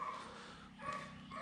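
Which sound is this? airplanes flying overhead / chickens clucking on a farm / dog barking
dog barking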